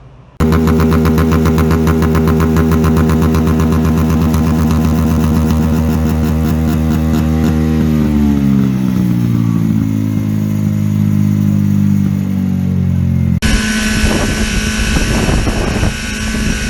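A motorcycle with a tampered, modified exhaust is revved loud and close during an official inspection. It holds a steady high drone, then the pitch sags and shifts into a rougher, noisier roar toward the end.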